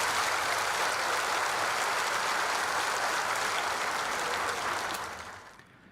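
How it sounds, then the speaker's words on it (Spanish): A church congregation at a live Mass for the novena of the Virgin of Caacupé breaks into warm, sustained applause, dense and steady for about five seconds before fading out. "Agradecemos y reconocemos con un fuerte y caluroso aplauso."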